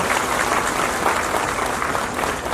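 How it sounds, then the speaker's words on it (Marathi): Strong applause from a crowd at a Mahalakshmi Saras event, steady and dense clapping filling the whole stretch with no pauses. "आपल्या सर्वांना विनंती आहे की राज्यस्तरावरच्या टीमसाठी एक जोरदार टाळ्या"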